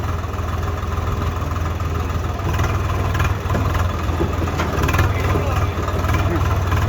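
A heavy tractor engine rumbles steadily at close range during field ploughing, low and continuous, while voices talk over it.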